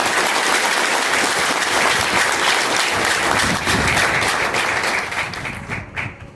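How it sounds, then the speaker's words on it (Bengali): An audience at a motivational speaking event applauds loudly and steadily, a dense wash of clapping that holds for several seconds and then thins and fades near the end. "নিজেদের জন্য একটা জোরে জোরে হাততালি হচ্ছে।"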